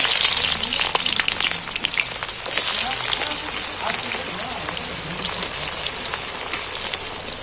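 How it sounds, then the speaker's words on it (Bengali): Sliced onions tipped into hot oil for a chicken curry, a loud, dense crackling sizzle that starts strong and settles into a steady fry, close up and continuous. "পেঁয়াজগুলো গরম তেলের উপরে তুলে দিচ্ছি।"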